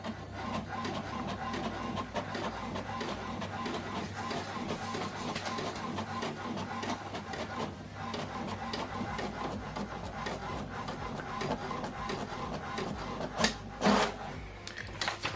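HP Deskjet printer printing a document, a steady mechanical whir and rasp with a low hum throughout, fairly close, no talk.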